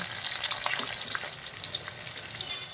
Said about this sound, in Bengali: সব ফোড়ন আমাদের দেয়া হয়ে গেছে গ্যাসের ফ্লেমটা একদম লোতে রেখেছি এইগুলো একটু ভাজা ভাজা হয়ে গেলেই